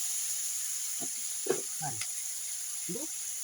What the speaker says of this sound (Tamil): நல்லா மசாலா வதங்கின உடனே உப்பு போட்டுக்கணும்.